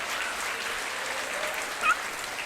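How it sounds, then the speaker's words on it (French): Two podcast hosts in a tattoo-artist show clap for themselves, a soft, thin patter of applause continuing evenly at low volume with a slightly louder moment near the end. "je pense qu'on peut s'applaudir parce qu'on est à l'heure"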